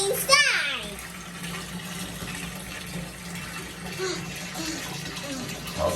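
Hot water steeped with Chinese mugwort herb pours into a bath in a steady rushing splash, while a voice and other talk are heard over it.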